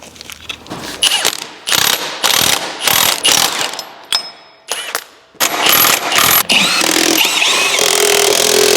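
A hand ratchet clicks in repeated bursts while threading a bolt on a compact wheel loader, each loud, close run of rapid clicks separated by short pauses, with a longer continuous stretch near the end.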